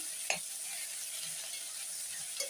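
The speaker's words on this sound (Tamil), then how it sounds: "அந்த நாலு தக்காளி பழத்தையும் இதோட சேர்த்து நல்லா வதக்கி விட்டுருங்க" Four chopped tomatoes being sautéed in a pan for a moong dal side dish, with a soft steady frying hiss and two brief sharp utensil clicks, one near the start and one near the end.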